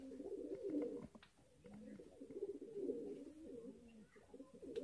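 Pigeon cooing from a high flyer homing pigeon, several soft throaty coos in a steady rolling rhythm, close by and fairly quiet, with no talk over it.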